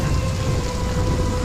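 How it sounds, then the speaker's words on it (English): Heavy rain roars steadily with a deep rumble of thunder underneath in a dense, continuous storm, loud and enveloping, with no voices. "It's just a storm."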